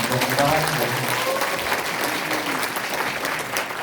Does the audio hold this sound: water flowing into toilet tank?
no